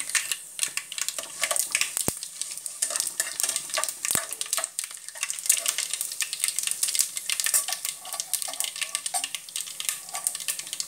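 Leftover puttu scramble being stirred in a pan with curry leaves, a steady close scraping and light sizzle running throughout, with two sharp clicks early on.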